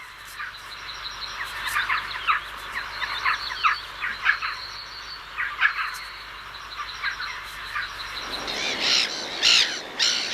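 A pair of jackdaws calls back and forth in repeated sharp, clipped caws, loud and close over a low steady background hum, with a brighter burst of calls near the end.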